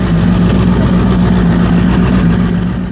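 Turbocharged V8 engine fitted in a personal watercraft runs loud and close, a deep, steady rumble with a throbbing low hum that holds constant throughout, with no voices.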